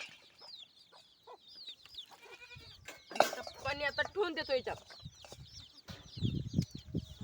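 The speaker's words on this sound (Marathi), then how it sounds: "कोंबडी आजूबाजूला हिंडत आहे पिल्यावाली" A mother hen roaming with her chicks clucks in short, repeated bursts close by, with chirps from the chicks mixed in and someone speaking briefly among them.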